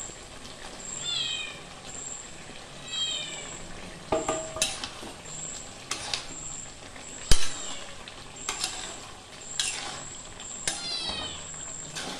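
A cat meows a few times amid kitchen clatter and sizzling, with sharp clicks and knocks scattered throughout.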